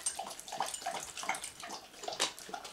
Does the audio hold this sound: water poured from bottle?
yes